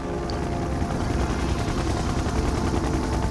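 Continuous rapid gunfire from units in the video game Red Alert 2: Yuri's Revenge, a dense, loud rattling burst that runs without pause, layered with low rumbling battle noise.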